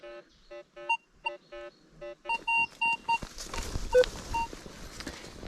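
A metal detector gives a run of short electronic beeps in a pulsing pattern, then a changing tone mixed with scraping and rustling noise, while searching a war battlefield site.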